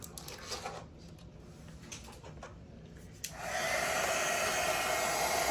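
A heat gun shrinking heat shrink tubing over a fuse holder on a wire loom, a steady blowing hiss that kicks in abruptly partway through and holds on, after a few light handling clicks.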